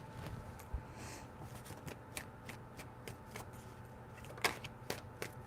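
Tarot cards shuffled by hand in quiet short bursts, crisp riffling snaps and soft slides repeating irregularly, close and faint with no talk.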